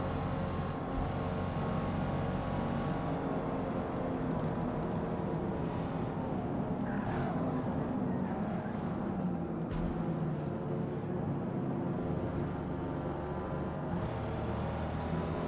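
A steady, continuous engine drone from an E-Type Jaguar in a racing video game, with harmonic whine that shifts slowly in pitch as the car holds speed. The tone stays constant throughout and no one talks.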